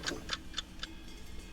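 A watch timer ticks in a quiet kitchen during jazz-accompanied baking, four faint, evenly spaced clicks close by, fading after the fourth.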